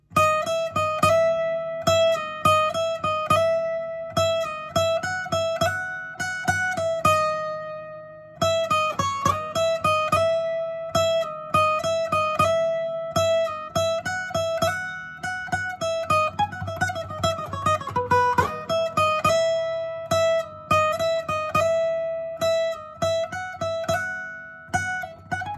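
Guitar plays the main melodic phrase of a song, a clear sequence of plucked notes with steady rhythm and ringing sustain, heard alone and up close for the whole stretch.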